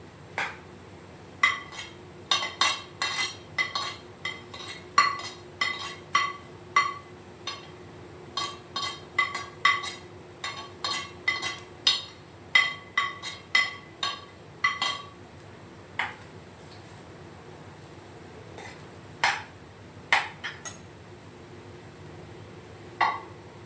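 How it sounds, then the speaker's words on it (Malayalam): Grated coconut and green chillies roasting in a pan, heard as a steady run of sharp metallic scrapes and clinks from a spoon stirring against the pan, fairly close, with a faint background hiss and no talking. "തേങ്ങാക്കുത്തും പച്ചമുളകും അരിഞ്ഞു വെച്ചിട്ടുണ്ട് അതുകൂടെ ഇട്ടിട്ട് അങ്ങനെ വറുത്തെടുക്കുവാണേ"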